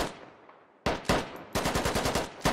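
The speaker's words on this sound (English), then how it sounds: "I can't tell what Bartok's trying to shoot at here." Automatic gunfire in the Squad military shooter aimed at an MRAP's turret: a short burst, a pause, then a rapid string of about ten sharp reports and a final shot, fairly close.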